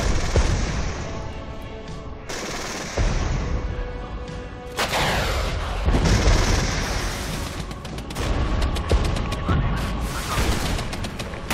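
Artillery fire in the war strategy game Regiments, a barrage of booms and crackling gunfire that rolls on loudly throughout, with heavy impacts and a dense battle din.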